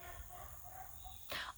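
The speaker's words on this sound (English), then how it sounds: "I apologize for the barking." A dog kept out back in the yard gives a single short bark near the end, somewhat distant, after a stretch of quiet background.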